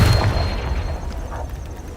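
A Confringo spell from Hogwarts Legacy lands as a deep, booming blast, a single loud burst with a rumbling low-end tail that fades over about two seconds.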